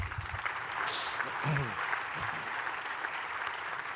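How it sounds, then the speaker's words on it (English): An audience applauds a workforce development panel, a soft, steady wash of clapping heard from a distance, with faint voices mixed in. "let's give this panel another round of applause"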